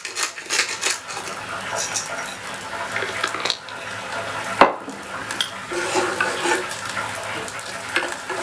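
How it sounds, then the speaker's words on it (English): Quinoa with a little salt lightly toasting in a hot pan, giving a steady soft sizzle with scraping and stirring noises and one sharp clack partway through. "So I'm going to add the quinoa to the pan and lightly toast the quinoa with"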